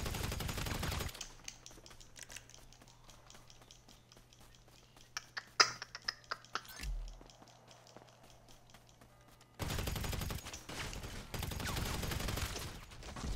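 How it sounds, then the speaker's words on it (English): Gunfire in a 1v1 video game gunfight on a training facility map, a quick burst of sharp shots in the middle between stretches of louder game audio, no talking. "I'm gonna just have to gunfight him"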